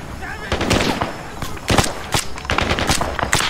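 Arma 3 gunfire cracks out in close, sharp bursts of several shots with brief gaps between them, loud and dense.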